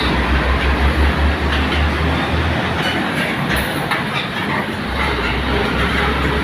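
An LRT train rolls by on a former PNR line in Dalandanan, Valenzuela City, Philippines, close and loud, with heavy low rumble and rattling wheel clatter that shifts and eases midway before resuming.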